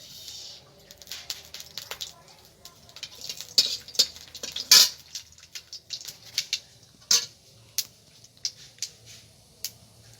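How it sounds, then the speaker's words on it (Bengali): Dry red chillies and black mustard seeds sizzle and pop in hot oil, sharp irregular crackles and spits scattered over a quiet hiss, with a few louder pops standing out. "আমি ফোড়নে দেবো, দেখুন, শুকনো লঙ্কা, আর দেবো কালো সর্ষে"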